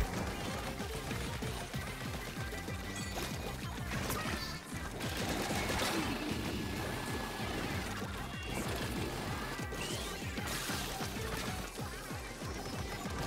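Dense barrage of missiles and explosions in the video game Splatoon 3, a continuous loud crackling and smashing clatter with rapid overlapping impacts and game music underneath, no pauses throughout.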